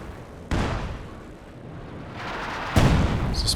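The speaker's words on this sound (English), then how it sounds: "There's this barrage onto the machine gun" Artillery barrage in Company of Heroes 2 striking a machine gun position: two heavy broadband blasts, the second louder, over a continuous rumbling battlefield wash.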